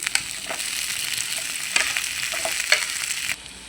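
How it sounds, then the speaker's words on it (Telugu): Small chopped tomato pieces frying in a spoonful of hot oil, a steady close sizzle with occasional stirring scrapes and crackles, no voices. "ఒక స్పూన్ ఆయిల్ వేద్దాం ఇప్పుడు టమాటాలు చిన్న పీసులు కట్ చేసి వేస్తున్నాను"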